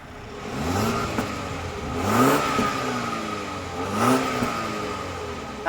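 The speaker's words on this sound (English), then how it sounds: "let's cruise around the back and get a little rev time with this turbo 4-cylinder" Turbocharged four-cylinder engine of a BMW X1 28i M Sport revved from outside the car, two distinct rising revs around the middle and end over a steady idle, fairly close and alone.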